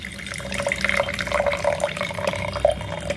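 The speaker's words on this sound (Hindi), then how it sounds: "इसके साथ गर्म पानी ऐड कर रही हूँ," Hot water pours in a steady, continuous trickle into a cup of Kashmiri kahwa-style lemon detox drink, close by and without speech.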